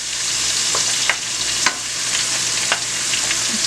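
Dusted red snapper frying in a hot pan gives off a steady, loud sizzle with a few sharp crackles and pops spread through it, close up and with no talking.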